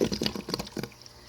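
Water drains through an aquaponics auto siphon in a small indoor setup, giving quick gurgling burbles in a close, uneven run that trails off into quieter trickling.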